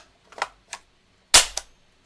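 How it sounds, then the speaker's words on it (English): Polymer magazine being inserted into a Hatsan Escort BTS12 semi-auto bullpup 12-gauge shotgun: a few close, sharp plastic-and-metal clicks, with two lighter taps followed by a louder snap and a quick second click. "I just thought of it right now as I was putting the magazine in"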